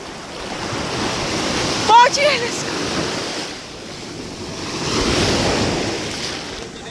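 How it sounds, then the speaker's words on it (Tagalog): Ocean surf breaking at the Baler surfing area in Aurora, a steady wash of waves with wind noise on the microphone, swelling louder near the end, and a brief voice early on. "Napakaganda ngayon ng alon."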